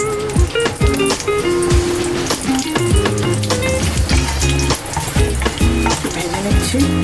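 Dried red chilli and bay leaf frying in hot mustard oil in a pan, a continuous crackling sizzle running underneath loud, steady background music.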